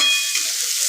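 Onions sizzle in a frying pan as they are stirred, a brief, close, steady hiss without talk.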